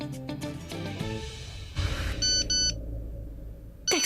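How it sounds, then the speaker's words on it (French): A phone's text message alert sounds as a short run of bright electronic beeps, following a few seconds of background music and ambience. "Texto de Samir"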